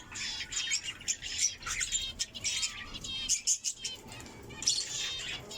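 Pet budgerigars and cockatiels chirp and tweet in quick, close bursts, with scattered squawks and a flutter of wings, the chatter rising and falling over several seconds.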